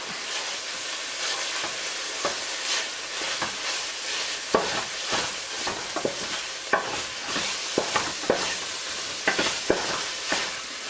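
Tomato paste is stirred into a mushroom ragu in a pan, a spoon scraping and clattering in irregular bursts over a soft, continuous sizzle.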